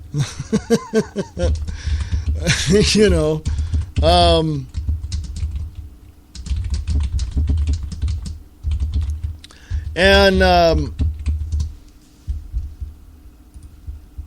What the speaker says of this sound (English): sorry for all that typing